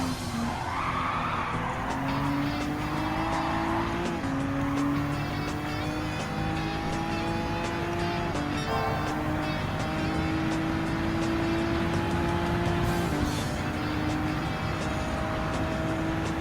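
A Honda NSX '17 race car braking at Daytona in Gran Turismo 7, its engine note dropping through downshifts with tyre squeal rising, loud and continuous, while a voice talks faintly underneath.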